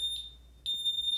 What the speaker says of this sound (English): There's the alarm, it just set it.